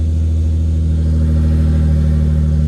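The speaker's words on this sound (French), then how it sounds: "Le bruit d'A2JZ franchement c'est quand même beau" A BMW E36 fitted with a 2JZ engine idles steadily up close, a loud, even, deep rumble with a smooth low hum and no voices.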